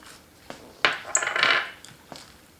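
Pine nuts being added to a broccoli salad: a handful of light, hard clicks and a brief rattling patter as small nuts drop into a bowl, close and fairly quiet, with no talking.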